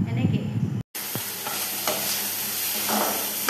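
Onion frying in a kadai gives a steady, close hiss of sizzling with occasional stirring scrapes, following a short abrupt break near the start.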